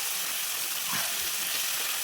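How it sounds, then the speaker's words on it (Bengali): Fish rubbed with salt and turmeric frying in hot oil in a wok, a steady close broadband sizzle and crackle filling the whole stretch without pause. "ওই কড়াইতে মাছ ভেজে নেবো। আর এদিকে তেল গরম বসিয়েছি"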